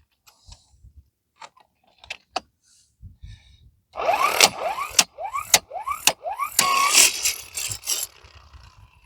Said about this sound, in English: That's actually pretty impressive for a 12-volt impact gun.